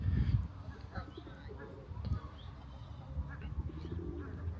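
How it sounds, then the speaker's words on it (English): Pigeons coo softly beside a boating lake on a summer seaside walk at Cleethorpes, low murmuring calls repeating over steady outdoor ambience with faint chirps and a little distant background noise. "there's pigeons as well. There's a pigeon amongst them."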